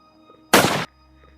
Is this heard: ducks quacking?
no